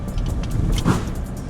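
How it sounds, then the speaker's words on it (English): New stock pickup truck driving over bumps, a continuous close cabin rumble of road noise with faint rattles and knocks through the ride, no one talking. "going over bumps in this truck"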